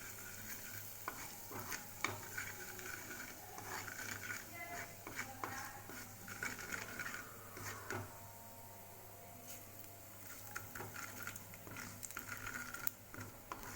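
Asafoetida frying in hot refined oil in a pan, a faint steady sizzle broken by frequent light stirring taps and scrapes of a spoon against the pan.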